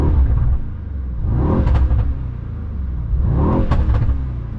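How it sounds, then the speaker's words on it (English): Mercedes Kugel S600 with a 600-plus horsepower engine revved twice while parked, each blip swelling to a loud rumbling roar and falling back to a deep idle, close by with no talk. "Maybe do a bit of a revs here."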